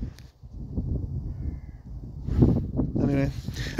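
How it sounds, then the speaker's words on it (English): Crows caw a few times, harsh repeated calls nearby, mixed with a person talking. "can you hear them birds?"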